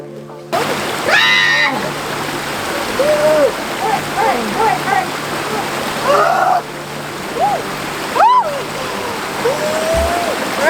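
Cold river water splashing and churning during a cold plunge in the Murray River, a steady wet rush with bursts of splashing, while people talk and call out over it.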